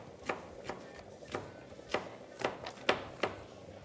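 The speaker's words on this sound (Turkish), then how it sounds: "biberlerimizi de hemen doğradık" A knife chops through red peppers on a board in a series of sharp, crisp cuts, about eight distinct strokes in an uneven rhythm, close and fairly quiet with no talk.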